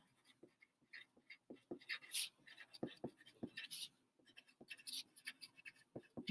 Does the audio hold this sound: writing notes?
yes